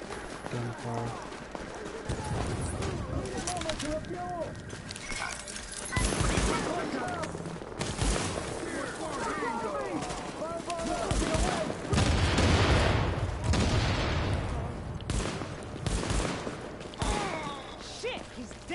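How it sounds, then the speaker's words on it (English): Bursts of gunfire in the shooter Tom Clancy's The Division, with rapid cracking shots in clusters and short pauses, loud and close, with voices talking over parts of it. "gunfire."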